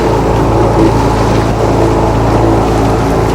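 A sailboat motors under engine on Lake Erie after leaving Port Colborne, its engine a loud, steady low drone mixed with rushing water and wind noise, continuous throughout.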